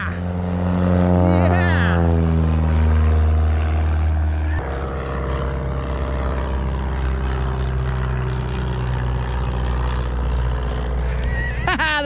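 A dirt bike fitted with an RK Tek piston and head, a new crank and a Scalvini pipe runs close and loud, rising through a rev before settling into a steady, throaty drone, with a voice talking over it.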